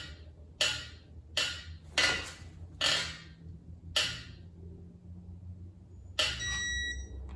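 A digital torque wrench gives a few short, sharp beeps and a longer tone near the end while connecting rods are torqued to 30 pound-feet on a Ford 363 small-block V8 engine being assembled in a quiet shop.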